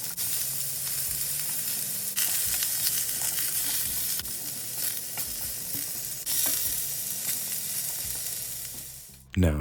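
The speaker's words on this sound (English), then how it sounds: "I'm going to fry these off in some vegetable oil, just a few tablespoons" Quince pieces frying in a few tablespoons of vegetable oil in an enamel cast iron pan, a loud, steady close sizzle that carries on unbroken, with a brief clatter near the end.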